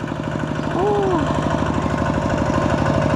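A tractor engine idles close by with a low, even chugging rhythm throughout, with a brief rising whine partway through.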